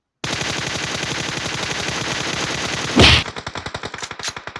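Rapid automatic gunfire in the mobile battle royale game PUBG Mobile: a dense, continuous burst of shots, a brief louder blast, then slower spaced shots, loud and close with no talk.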